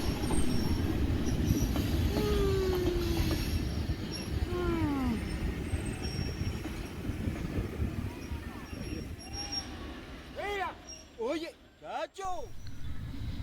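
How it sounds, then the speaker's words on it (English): An EMD G8 diesel locomotive hauls a mixed passenger train with a tank car on a Cuban line, wheels squealing in repeated rising whines over a steady rolling rumble, with a voice talking over it. "This one with a G8 locomotive and even a tank car in tow."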